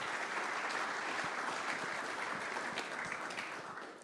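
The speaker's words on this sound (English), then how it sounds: "just like big round of applause for jumping in" A group applauding volunteers at a live-streamed gathering in Birmingham, a soft, steady wash of clapping that stays even and fairly distant before tapering slightly at the end.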